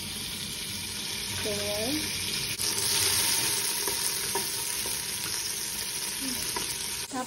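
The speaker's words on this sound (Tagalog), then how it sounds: "Mainit na yung pan, ilalagay ko na yung butter." Butter sizzles steadily in a hot pan, a close, continuous frying hiss with faint clinks and movement sounds, while a voice speaks briefly.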